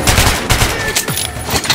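Rapid bursts of gunfire from a first-person shooter set in Metro Last Light, loud and close, with dense volleys early on and scattered shots trailing off, no talking.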